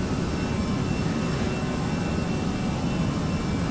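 An Airbus A320 departing Newquay Cornwall in Flight Simulator X, its simulated jet engines giving a constant, dense roar at steady loudness with no voices.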